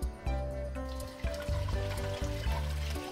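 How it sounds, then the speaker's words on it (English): Liquid pours and trickles steadily into a container close by, with background music playing throughout. "Then you pour it back into the pot"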